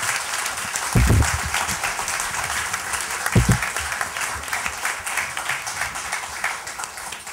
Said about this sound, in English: I'd like to really just offer another round of applause for the civilians.